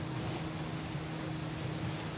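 Steady motorboat engine drone in Ghost Recon Wildlands with a low hum and constant rushing water noise, loud and continuous throughout, no voices.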